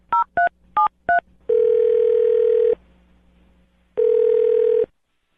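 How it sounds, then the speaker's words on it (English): A landline phone dials a number with four quick touch-tone beeps, followed by two long steady ringback tones separated by a pause, loud and close with no talk. "I'm going to dial his phone number right now"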